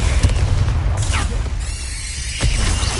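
The Confringo blasting spell exploding in the wizarding game Hogwarts Legacy: loud, deep booming blasts with rumbling bass, a sharp burst near the start and another toward the end, with a whooshing magical sweep between.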